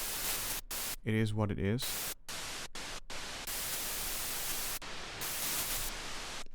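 Pitchless synthesizer noise, a broadband hiss in bursts broken by short gaps, with a brief spoken phrase partway through.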